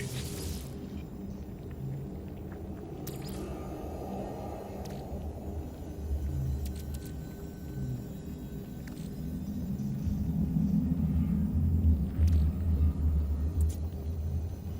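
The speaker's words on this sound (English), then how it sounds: "there's a toxic storm going on right now" A toxic storm in a video game brings a low, continuous rumble that swells louder toward the end, with a few faint high crackles over it and no speech.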